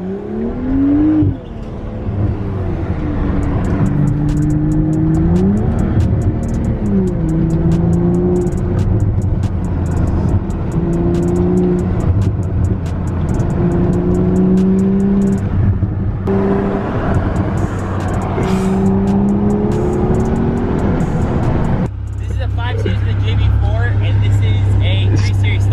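A BMW F30 335i with its muffler deleted revs repeatedly, its loud raspy exhaust note climbing and falling through several throttle blips over a sustained drone, ending in a deeper idle rumble.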